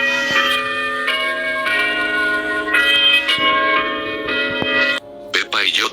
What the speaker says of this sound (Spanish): Después sonó la campana de salida.